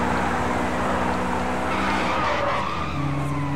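A car in the Hong Kong driving game Triad Wars corners hard, its tires skidding and squealing over a continuous engine roar, loud and close for the whole stretch.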